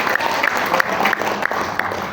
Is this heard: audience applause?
yes